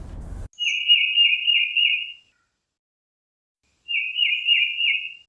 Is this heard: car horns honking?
no